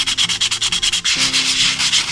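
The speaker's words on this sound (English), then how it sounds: "just sand that by hand or with a drill and see how much I can get that smoothed out" Rapid rhythmic sanding strokes rasp back and forth across a wooden bowl, first in quick even pulses, then a smoother continuous grinding with a low motor hum.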